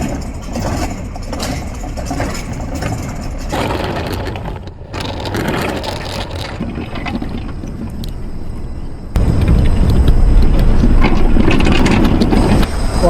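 A large engine rumbles steadily at close range, its low drone growing louder and rougher toward the end.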